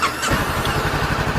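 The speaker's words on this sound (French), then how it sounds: "Ensuite, je vais démarrer le moteur." A Honda CB 500 motorcycle engine starts up: a brief starter whirr, then the engine catches into a loud, steady, rapidly pulsing idle close by.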